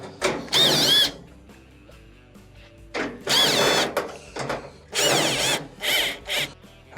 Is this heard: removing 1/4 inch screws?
yes